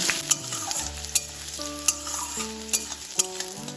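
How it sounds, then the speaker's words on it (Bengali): Chopped onion frying in hot oil while being stirred, a soft continuous sizzle broken by sharp utensil clinks at regular intervals, with music playing underneath. "পেঁয়াজটা তেলে হালকা একটু ভেজে নেব।"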